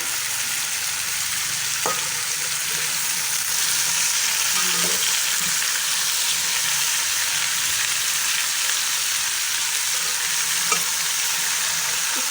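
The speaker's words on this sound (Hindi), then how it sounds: "अब मैंने गोभी और आलू को इकट्ठा ही फ्राई करना है।" Cauliflower and potatoes fry together in a pan for aloo gobi, giving a loud, steady, close sizzle that holds for the whole stretch with no voices.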